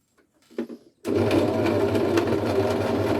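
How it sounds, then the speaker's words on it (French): A sewing machine stitching a baby sleeping bag near a zipper, starting after a brief soft sound and then running as a loud continuous mechanical whir close up. "J'abaisse l'aiguille et je commence à faire quelques points."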